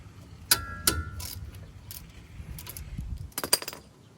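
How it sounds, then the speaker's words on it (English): A ratchet wrench clicks in short bursts while loosening 13 mm brake caliper bolts on a 2015 Ram 1500, sharp metallic ratcheting near and fairly quiet, with clinks of tools and small pauses between pulls. "These caliper bolts are 13 millimeter. Go ahead and pop them loose."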